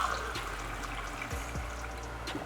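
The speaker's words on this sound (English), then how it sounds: "So the water I'm adding is what we're actually going to use to cook the rice." Water is poured into a pan to cook rice for fried rice, making a steady, soft rushing trickle at close range with no talk.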